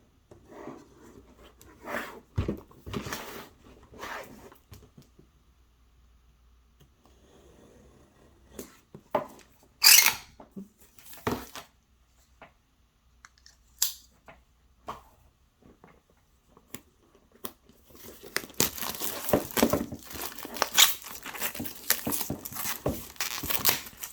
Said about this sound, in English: Now this kit has some plastic on it, so let's simply cut it